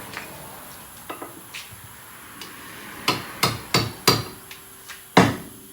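Hammer blows on a socket held against a ball joint during a Lincoln Mark VIII suspension repair, a few light taps and then a cluster of sharp, ringing metallic strikes, close up and without speech.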